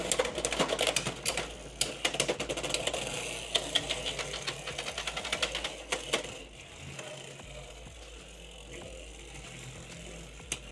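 Beyblade X spinning tops battling in a plastic stadium after launch: dense rattling clicks and sharp collisions for about six seconds, then a quieter, steadier whir as the tops keep spinning.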